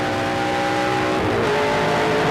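A Ford Fusion race car roars loudly and continuously from onboard during a 2008 race, the engine note dipping and climbing again as it works up through the gears.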